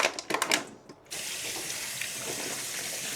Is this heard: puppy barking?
no